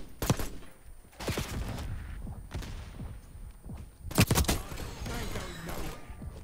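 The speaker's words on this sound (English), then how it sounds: "Oh, this is a burst fire." Burst-fire gun shooting in Black Ops 6, clusters of sharp close shots in quick groups with pauses between, plus softer distant gunfire and movement sounds.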